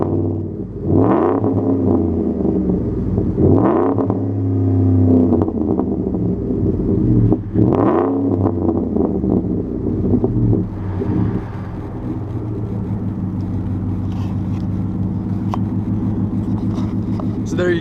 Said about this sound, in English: You'll get a listen on that exhaust there.